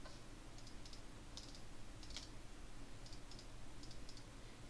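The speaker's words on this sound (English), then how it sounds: "so the clicking was actually in fact too slow" Rapid clicking while playing the mobile game Dofus Touch, heard as quick paired and clustered light clicks in short bursts over steady background hiss, with no talking.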